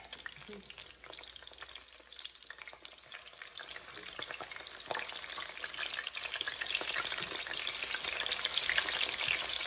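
A breaded steak milanesa, freshly flipped, fries in a pan with a dense, crackling sizzle that holds steady and slowly grows louder, close and without voices.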